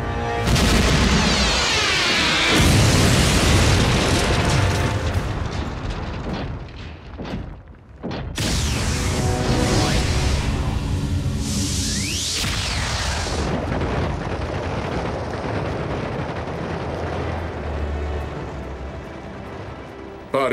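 A loud, sustained explosion from a Transformers Prime animated episode booms and rumbles across most of the stretch, with a brief lull near the middle before the roar returns and slowly fades.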